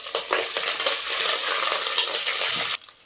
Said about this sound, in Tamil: வரமிளகாய் நல்லா வறுபட்ட உடனே கொஞ்சம் போல் கருவேப்பிலை சேர்த்துக்கலாம்.